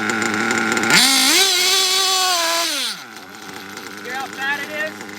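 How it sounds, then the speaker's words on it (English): A nitro RC engine being carburetor-tuned revs up sharply, holds a high buzzing whine for about two seconds, then drops back to a rough, uneven idle with small blips of throttle. "you want to start really slow on the throttle and slowly accelerate all the way through the RPM range"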